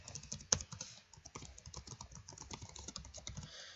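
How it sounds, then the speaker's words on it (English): Rapid typing on a computer keyboard while entering a medical chief complaint in patient-care reporting software, with steady irregular clicks and keystrokes, close and fairly quiet, alone without speech. "I'm also demonstrating now that you can do all of this with just keyboard without using the mouse or the touch screen."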